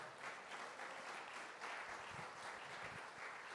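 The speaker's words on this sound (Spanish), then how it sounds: "Den un aplauso al Señor en esta mañana." Church congregation applause during a Sunday morning service, a soft, distant, even patter of many hands clapping for a few seconds, with no speech over it.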